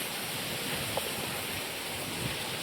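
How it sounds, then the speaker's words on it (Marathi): Rainwater runs down through flooded rice paddies in the Sahyadri hills during heavy monsoon rain, a steady, broad, hissing rush of flowing water, quiet and continuous with no voices. "हे पाणी इथून खाली जात आहे."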